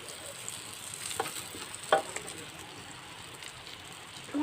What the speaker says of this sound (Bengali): তো আমি সবজিগুলো ভাজতে দিয়ে দিয়েছি।